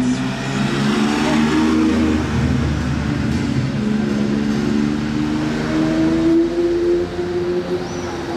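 A powerful supercar engine revs loudly and steadily, its droning growl rising and shifting in pitch over several seconds, with traffic noise around it.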